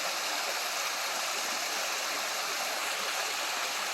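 Steady broadband rush of a waterfall's main drop on the trail to Clara Lake, continuous and fairly close with no other sounds.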